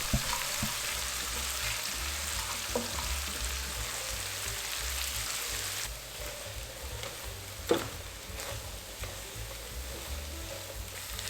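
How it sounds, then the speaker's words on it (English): Onions caramelizing slowly in butter and olive oil over medium-low heat for a grilled homemade pizza, giving a steady, even sizzle throughout with a single brief clink near the end and no voices. "the caramelized onions are starting to get jammy, but you just gotta cook them on medium low"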